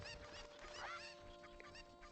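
Chickens in The Legend of Zelda: Ocarina of Time cluck and squawk in quick, faint bursts, one sharp cry standing out among the scattered clucks.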